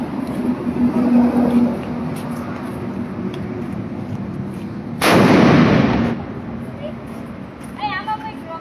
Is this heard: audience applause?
no